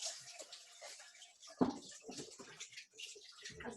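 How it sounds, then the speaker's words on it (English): Hands being washed under running water at a kitchen sink during pizza making, a soft splashing stream with a brief louder splash near the middle, fairly close and without talk. "Wash my hands really fast."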